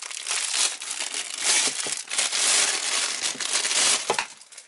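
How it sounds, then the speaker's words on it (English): A plastic bag is pulled off a gaming headset's remote control during an EasySMX A55 unboxing, giving loud, close crinkling and rustling that runs almost continuously before tapering off. "Let's take off this plastic bag to get to the remote control so we can have a look at that."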